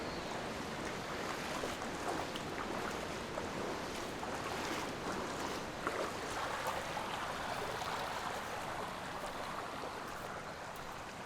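Snowmelt stream water washing over a flooded trail in Yosemite as people wade across barefoot, a continuous broadband rushing and splashing that stays steady and fairly close the whole time, with no talking.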